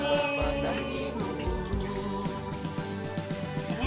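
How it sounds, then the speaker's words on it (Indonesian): Running tap water splashing over hands being washed, a steady close trickle and splatter with uneven bursts as the hands move under the stream, no talk over it. "Yuk, cuci dengan air yuk. Oke, dengan air mengalir."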